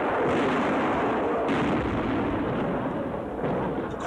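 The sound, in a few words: artillery cannon fire in war documentary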